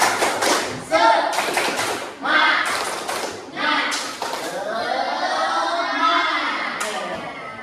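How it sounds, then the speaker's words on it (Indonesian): A school class performs a rhythmic spirit clapping chant, children clapping in sharp, patterned bursts and thumps while chanting together in unison, loud and close in a classroom. "Tepuk semangat."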